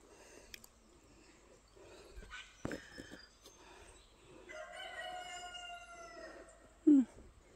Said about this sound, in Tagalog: Yan ang kapitbahay ko yung mga mga manok.